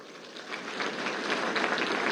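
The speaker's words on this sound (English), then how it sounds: "Please join me in welcoming them with a round of applause." Audience at the SEMICON India inauguration in New Delhi giving a round of applause, soft distant clapping that swells slightly and holds steady for about two seconds.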